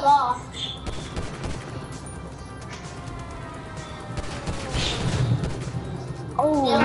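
Pistol fire in a video game, with sustained shots and impacts beneath continuous game noise and people talking.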